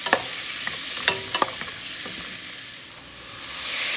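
Collard greens cooking in a hot pan, stirred with a wooden spoon: a steady sizzling hiss with a handful of sharp scrapes and clicks early on, then the sizzle alone, close up and without speech.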